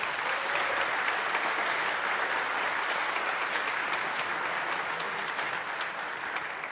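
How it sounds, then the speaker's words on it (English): Steady applause from a conference audience honouring the event's main sponsors, sustained and dense clapping throughout with no talking over it. "Please let me hear strong applause for our main sponsor"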